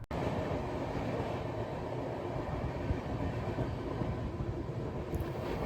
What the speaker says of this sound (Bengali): মাত্র 30 মিনিট লেট করে প্রতাপ এক্সপ্রেস আমাদের সন্ধে 6:30টায় পৌঁছে দিল আগ্রা ফোর্ট স্টেশনে।